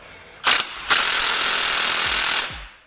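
A pneumatic impact wrench zips out the Allen bolts holding a GM brake caliper bracket: a short burst, brief pause, then one sustained loud rattling whir lasting about a second and a half before spinning down, close up with no talk.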